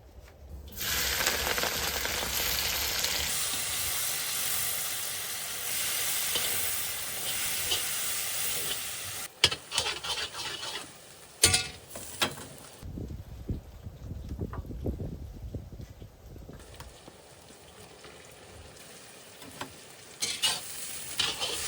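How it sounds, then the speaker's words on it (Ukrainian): Onions sizzle and fry in a kazan after the meat as plov is cooked, with a steady hiss of frying and intermittent scraping and clattering stirring strokes, close and fairly loud, with no talk. "Після м'яса відправляємо нашу цибульку."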